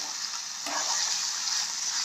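Onions fry in oil in a pan, a continuous bright sizzle that swells slightly after a brief crackle and then stays even and steady, with no one talking.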